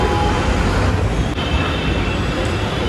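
Local commuter train at Ghatkopar station in Mumbai, a loud continuous rumble of rolling rail cars with a brief squeal of wheels, filling the whole clip without any voices.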